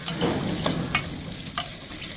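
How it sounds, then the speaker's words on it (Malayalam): Ingredients for vermicelli idli stir-fry in a hot pan, with a steady sizzle and a few sharp scrapes of a utensil against the pan. "നമ്മുടെ ഈ സാധനങ്ങളെല്ലാം കൂടെ ഒന്ന് തട്ടി കൊടുക്കാം"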